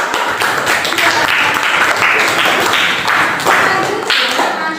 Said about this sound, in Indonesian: Oke, beri tepuk tangan untuk